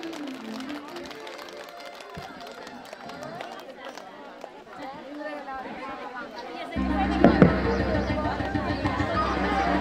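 A crowd at a Hindu maha yagya ceremony at Tinkhole Devi breaks into loud applause, building in the last few seconds over steady chatter and background music.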